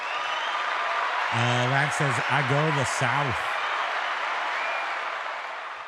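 Applause sound effect plays on a livestream, a steady wash of clapping running throughout while a person speaks over it briefly in the middle.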